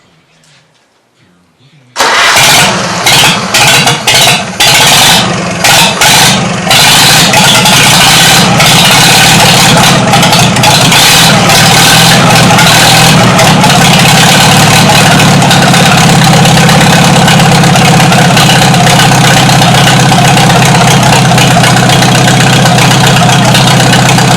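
A warm Farmall H tractor engine catches after a brief quiet start, sputtering and popping at first, then settling into a loud, steady, close idle that runs on.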